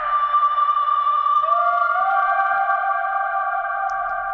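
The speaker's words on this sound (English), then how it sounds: "Then I've got a kind of a spooky pad." Eerie sustained pad from an Access Virus synthesizer, a steady tone whose pitch bends and splits into gliding layers, held alone at a moderate level without any voices.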